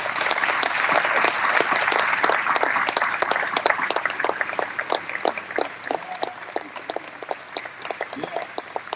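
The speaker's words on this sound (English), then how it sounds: "let's give them a big round of applause" An audience at a military retirement ceremony applauds veterans, with sustained, dense clapping from many people that fills the room and slowly thins toward the end.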